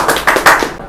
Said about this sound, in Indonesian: kasih tepuk tangan dulu untuk SMK Negeri 2 Teluk Kuantan